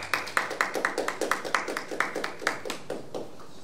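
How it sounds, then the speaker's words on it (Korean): Applause at a human rights and peace writing contest award ceremony in Korea, heard as a run of distinct, fairly close claps with a steady rhythm from a small audience, fading out toward the end. "뜨거운 박수 부탁드립니다"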